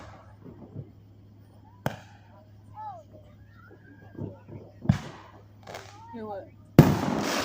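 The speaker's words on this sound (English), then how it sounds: "The other fireworks shows." Distant July 4th fireworks pop and crackle in a few scattered bursts, with a loud burst near the end, while children talk and chatter over the top.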